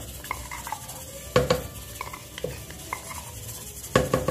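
Garlic going into a pan on a stove and being stirred, with a faint sizzle beneath scattered metallic clinks and scrapes of a utensil, two sharper knocks standing out, close and fairly quiet.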